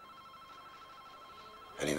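A telephone rings with a call placed from a tape recorder wired to the phone in a 1989 thriller: a steady faint tone runs under the room hush, then a loud, bright burst of ringing arrives right at the end.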